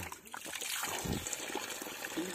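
Water trickling and splashing at a forest spring near a hidden waterfall, a continuous close burble with brief louder splashes, while people talk over it.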